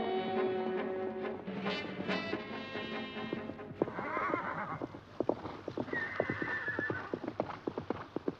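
A horse racing at a gallop, opening with a loud whinny and then a quickening run of hoofbeats that grows more rapid and rhythmic, fairly close, with no talk.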